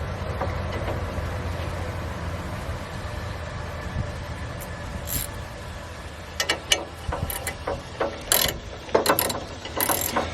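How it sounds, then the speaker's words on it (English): A hand ratchet snugs down 13mm bolts into threaded holes on a JAPA 405 firewood processor, heard as bursts of rapid clicking in the second half over a steady low background hum. "then we'll snug them down with the ratchet"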